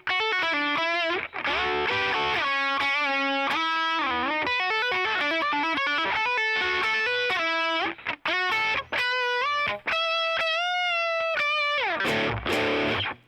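A distorted electric guitar solo at full speed, with fast bending lead lines, sustained singing notes and quick runs, loud and continuous with brief gaps near the end.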